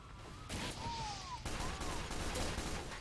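Rapid pistol fire in the Team Fortress 2 video game, a dense volley of sharp shots packed into a few seconds, fairly loud against the game's background noise.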